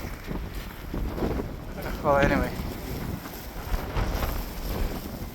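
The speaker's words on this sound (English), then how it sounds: "Oh my god, it's so windy." Strong wind buffets the microphone in a heavy snowstorm outdoors in Canada, a steady rushing roar throughout with brief speech from a woman over it.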